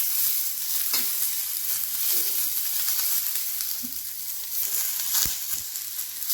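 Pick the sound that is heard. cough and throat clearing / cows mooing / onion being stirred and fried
onion being stirred and fried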